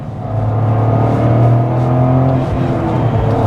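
A 2024 Toyota GR Corolla Core accelerates hard past 60 mph, its engine droning steady and loud from inside the cabin with a slight shift in pitch.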